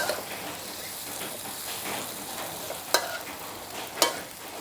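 Shrimp stir-fry over a raised flame with chilies, a continuous close sizzle with soft stirring and two sharp spatula knocks against the pan.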